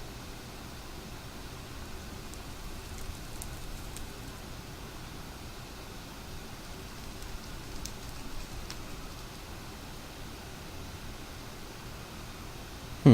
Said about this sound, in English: I want to sleep just to get rid of this dang rain.